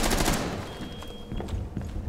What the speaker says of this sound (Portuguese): Ó, o cara tá atirando aí, velho.